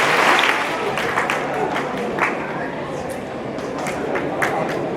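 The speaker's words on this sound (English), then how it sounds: "Clap twice if you hear me." Large rally crowd clapping, a busy spread of many hands with a few louder claps standing out and crowd noise underneath, loud and continuous rather than two distinct beats.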